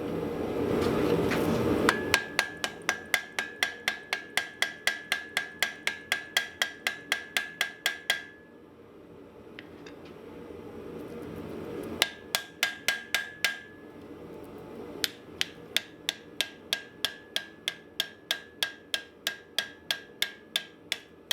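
Steady, rhythmic hammer blows ring on hot steel as the ends of a drawknife are forge-welded at the scarf joints, landing in fast even bursts with short pauses between runs, close and sharp with no talking.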